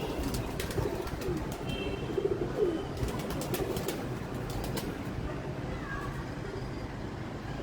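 Racing pigeons coo softly and repeatedly in a low rolling murmur, with occasional higher chirps and faint clicks over a steady outdoor background.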